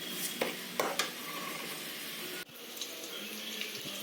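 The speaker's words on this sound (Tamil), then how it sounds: "போட்டு நல்லா வதக்கி விட்டுக்கோங்க, கலர் சேஞ்ச் ஆகிற வரைக்கும்." Potato masala with green chillies and salt sautés in a pan, giving a soft, continuous sizzle. Scattered stirring scrapes and clinks and one sharp knock sound close by, with nobody talking.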